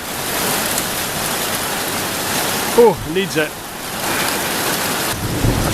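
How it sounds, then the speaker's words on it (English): Heavy rain pours down in a thunderstorm, steady and loud, with a brief rumble of thunder in the middle; a person speaks a couple of words over it. "And then the rains came down."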